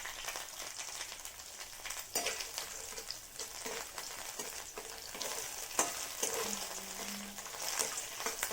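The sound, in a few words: bottle gourd with poppy seeds and dry chilli frying in pan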